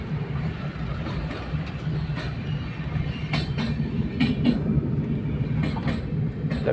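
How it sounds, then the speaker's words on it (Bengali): A train crosses the Farakka bridge, its steady low rumble with faint rhythmic clatter of wheels over rails running continuously and fairly close throughout, with no talking. "দেখতে পাচ্ছেন ট্রেন যাচ্ছে ফারাক্কা ব্রিজে"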